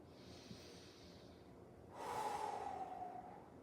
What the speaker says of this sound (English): To count, inhale and exhale.